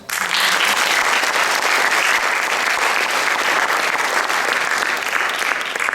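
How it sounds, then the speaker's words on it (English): A concert audience in Tasmania breaks into loud, steady applause for Arushi after a classical arts performance, a dense sustained wash of clapping throughout. "Please give a loud applause."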